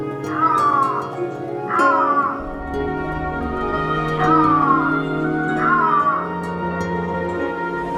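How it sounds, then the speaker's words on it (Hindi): Repeated drawn-out wailing calls of an Iberian lynx, four in a row at a steady pace, loud and close against a constant low background hum. "उनके बीच दुनिया की सबसे डरावनी बिल्ली आइबेरियन लिंक्स की दहाड़ एक दहशत पैदा करती है"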